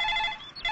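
A telephone rings in a short, close electronic trill, with one ring fading briefly before the next begins.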